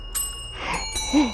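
A bell dings in the VR ghost-hunting game Phasmophobia, a single bright ring near the end of a short stretch of ambient game noise.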